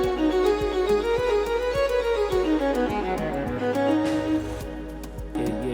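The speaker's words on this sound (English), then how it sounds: "I have violin phrase or lick" A violin lick programmed in FL Studio glides through a sliding melodic phrase over a regular kick-drum pulse and deep bass, loud and continuous with no voices.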